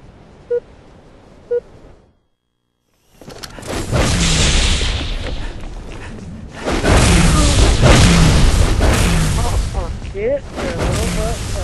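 A bomb detonates in a Halo Reach Grifball match in a video game: a couple of short beeps, then silence, followed by a heavy booming blast and a rumbling roar, with voices layered over it.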